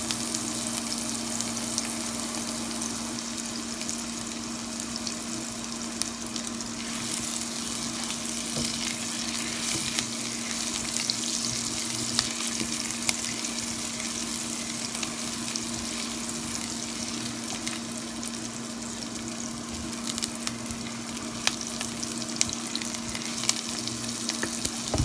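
Onion sautés with a pinch of salt in a pan for brown rice pilaf, giving a steady close sizzle and crackle with faint stirring scrapes, continuous and alone without talk.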